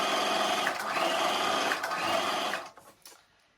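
An electric sewing machine stitching fabric for a turban, a steady fast mechanical whir running continuously and close, then slowing and stopping with a few faint clicks at the end.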